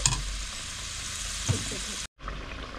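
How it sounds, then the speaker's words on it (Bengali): A katla fish curry simmering in a pan, a steady close sizzle and bubbling hiss with a brief stir-like clink, cut by a short gap of silence near the end. "বন্ধুরা দেখো আমার তরকারিটা কেমন ফুটছে দেখতে পাচ্ছ।"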